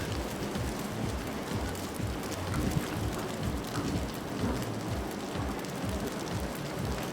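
A large fire roars as huge fans drive wind across it, giving a loud, steady, broadband rush with low rumbling surges and no voices.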